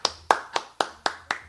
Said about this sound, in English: a round of applause, thank you